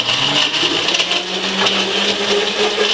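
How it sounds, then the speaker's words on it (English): A blender whirs loudly and continuously up close, its motor pitch wavering slightly as it mixes a thick soy milk protein shake. "So I'm gonna turn back on the blender"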